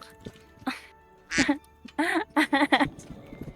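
A person makes several quick nasal quacking sounds, a voice imitating a duck, in a short burst after a few other vocal noises.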